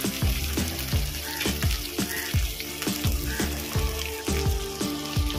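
Chicken mince frying in a pan after ginger and garlic, with loud, continuous close sizzling and regular scraping stirs.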